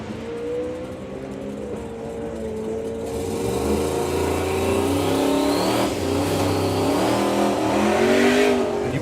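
A drag racing car launches off the start line with a loud, close engine roar that climbs steadily in pitch as it accelerates hard, and the revving stays strong for the whole stretch without any talk.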